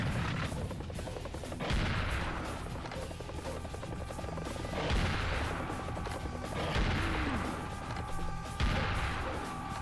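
A shotgun fires repeatedly in a video game, with loud, close booms about every three seconds over a constant roaring, rotor-like drone of game background noise.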